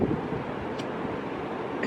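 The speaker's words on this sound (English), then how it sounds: "why is it so windy?" Strong outdoor wind buffeting the microphone at Atlantic City, a constant loud low rumble and roar that fills the whole stretch without pause.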